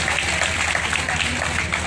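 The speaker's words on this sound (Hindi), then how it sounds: "जोरदार तालियां बेटों के लिए होगी" Steady applause from a school audience cheering students of a Navodaya Vidyalaya in Rajasthan, dense and continuous clapping that fills the whole short stretch at an even level.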